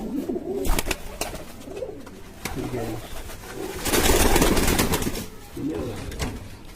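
Pigeons, a male and females kept by a fancier, coo in soft repeated bursts nearby, with someone talking between and over the calls and some handling noise.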